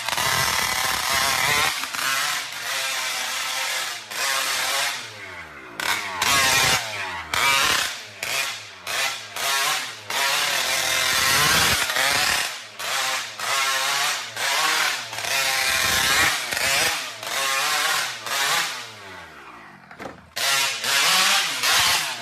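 Loud two-stroke engine revving hard and smoking, sounding like a chainsaw-type motor in bursts of high revs with brief drops between, close, harsh and continuous across the stretch.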